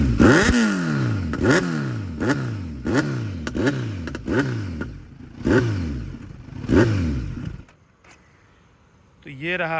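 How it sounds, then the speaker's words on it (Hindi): Kawasaki Z900 superbike with an aftermarket exhaust fitted with a dB killer, revved repeatedly in sharp bursts, each throttle blip rising and falling in a loud, close rhythm before dropping to a quiet idle near the end. "अब मैं आपको सुनाने वाला हूँ इस गाड़ी का साउंड।"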